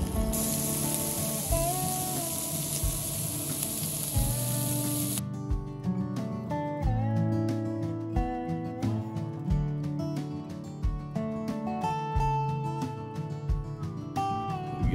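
Bacon sizzles in a campfire skillet with a steady, bright hiss for about the first five seconds. Rhythmic music then takes over.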